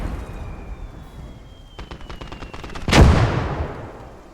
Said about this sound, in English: We've got a machine gun there.